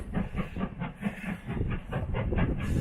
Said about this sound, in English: that is a good old steam train, chugging through there